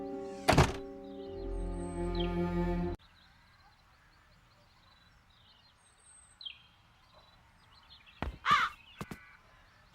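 Crows caw in the video game The Dark Eye: Chains of Satinav, a couple of loud close harsh calls at the start, then quiet ambience with faint distant cries and a late burst of thumps and caws.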